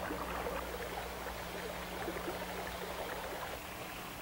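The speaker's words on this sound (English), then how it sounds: "Here's a brook running through a lobby." An indoor brook runs through a building lobby, giving a steady, close, continuous rush of flowing water that stays even and unbroken throughout with no voices.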